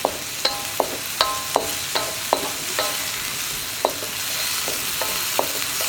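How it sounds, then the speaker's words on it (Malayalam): Soy sauce and chili sauce cooking in a pan for egg fried rice, with a spoon or spatula repeatedly tapping and scraping the pan in an irregular rhythm over a steady background sizzle. "ഇനി സോയ സോസും ചില്ലി സോസും ഒന്ന് കുക്കാവണം."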